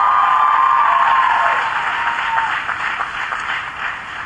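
Applause from a large commencement audience at Barnard College, a broad steady wash of clapping that is loud at first and gradually eases, with a faint tone running beneath it.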